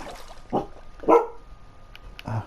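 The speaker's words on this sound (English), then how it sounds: "My dog is barking at nothing." A dog barks in a few separate bursts, roughly three sharp barks spaced apart, moderately close against a quiet room background.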